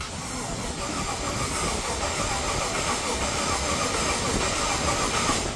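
A Holden HQ Monaro engine cranking over without firing, a continuous whirring, hissing mechanical drone from the starter that holds at an even, fairly loud level throughout.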